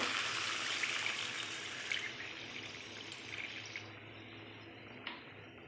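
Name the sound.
pouring water into a pan of frying vegetables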